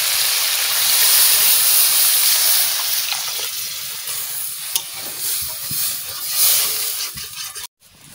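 Spicy red mutton curry being stirred and browned in a pan, a steady loud sizzle with scraping stir strokes throughout, fading briefly near the end.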